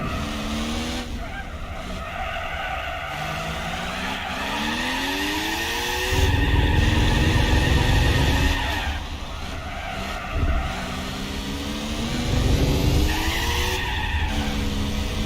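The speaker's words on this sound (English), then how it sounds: "Imagine an old car wheel spinning" Old car in Gran Turismo 4 spinning its wheels and skidding, engine revving in rising sweeps over steady tire squeal, loud and close, with brief surges of wheelspin as the throttle is pressed.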